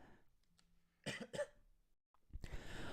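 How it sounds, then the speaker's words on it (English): Someone with a sore, hurting throat gives a couple of short, weak, strained coughs, close by in a quiet room, with a throat-clearing sound and breathy pauses between them. "Oh, I can't even cough properly. My throat hurts when I cough."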